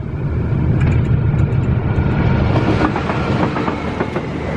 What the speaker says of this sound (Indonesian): Ini kereta api Mataram.